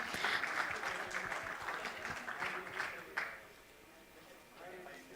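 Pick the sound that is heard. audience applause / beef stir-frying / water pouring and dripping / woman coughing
audience applause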